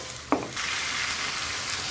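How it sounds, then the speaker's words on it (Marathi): Masala with coriander frying in a pan, a single stir clack followed by a steady close sizzle. "याला छान भाजून घ्यायचं आहे, परतून घ्यायचं आहे"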